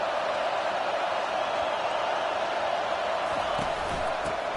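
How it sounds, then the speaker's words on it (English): A football stadium crowd roars in a steady, dense wash of noise, with no breaks and faint thumps underneath. "This crowd bringing the energy and noise early."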